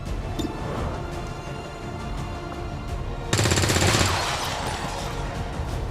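Automatic gunfire in the XCOM 2 War of the Chosen video game, with a steady background of scattered shots and clatter, then a sudden louder, dense burst of rapid fire partway through that trails off into continued battle noise.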